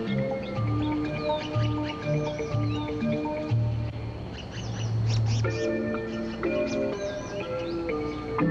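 Formosan blue magpie nestlings and adults call around the nest with a busy chorus of harsh, squawking cries and repeated begging notes, close and fairly continuous.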